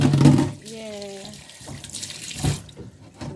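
Tap water runs into a kitchen sink while a counter is washed, a steady splashing stream close by with brief bursts, heard alone without talk.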